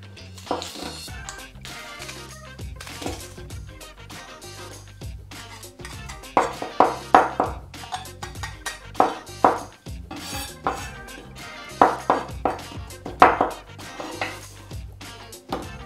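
Onion being chopped finely for Ethiopian cooking, with sharp knife taps against a board that come in quick rhythmic clusters, close and fairly loud, among occasional clinks of dishes.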